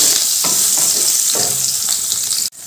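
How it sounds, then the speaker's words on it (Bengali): Long-cut potatoes fry in hot oil seasoned with black cumin, giving a loud, close, continuous sizzle broken by a few scraping stirs of a spatula, then cut short by a sudden brief drop near the end. "এবার ভালো করে আলুগুলো ভেজে নেব।"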